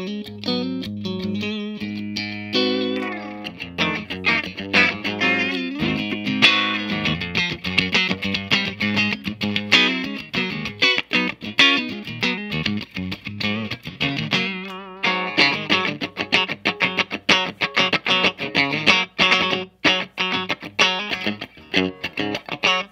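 Electric guitar played through a Dr Z Carmen Ghia amplifier, with strummed chords and picked riffs in a continuous, driven, slightly distorted tone that rings out alone for over twenty seconds.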